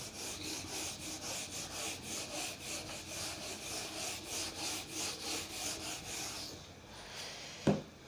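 Chalk or eraser rubbing out writing on a classroom board, a steady rhythmic back-and-forth scrubbing of even, fairly quiet strokes that ends with a single sharp knock.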